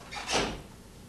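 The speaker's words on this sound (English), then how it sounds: "Open the loading door." A front-loading washing machine's loading door is opened during a door seal replacement, giving a soft, short click-and-swing sound that is fairly faint and close.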